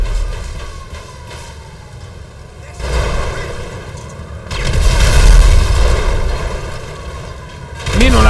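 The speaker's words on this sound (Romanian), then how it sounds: "Minunate sticky bomburile astea, excelente!" Sticky bombs detonate in the video game GTA, several heavy booming blasts in sequence with rumbling aftermath, loud and close, with faint talk mixed in.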